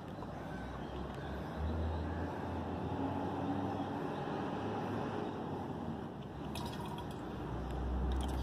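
A capful (about 5 ml) of all-in-one insecticide for plants, shaken first, is poured into water, giving a quiet, steady liquid trickle with no talking.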